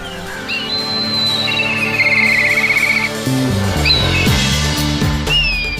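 Black kites call over Mehrangarh Fort in Jodhpur on the edge of the Thar Desert, giving thin, high whistling cries and a quick trill above a steady bed of background music.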